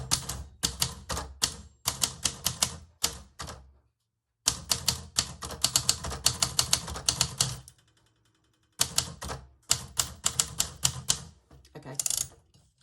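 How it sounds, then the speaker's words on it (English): Clacking keys of a typewriter struck in quick bursts of several strokes each, separated by short pauses, close and crisp, with no talking over it. "I'm just going to move my typewriter out of the way."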